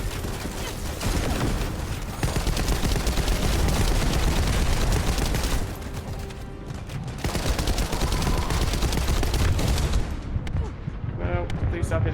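Dense, sustained automatic gunfire from a shooter game, The First Descendant, played on hard mode against a boss: loud rapid bursts nearly nonstop for several seconds with short breaks, a player's voice cutting in over the shooting.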